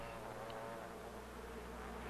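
Bees buzz inside a busy hive, a dense continuous drone of many wings at steady loudness, close and unbroken, with no voices.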